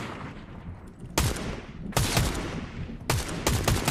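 Gunfire in Fortnite aimed at a tree, loud close bursts of rapid shots arriving in several clusters with short pauses between them, no talk over it.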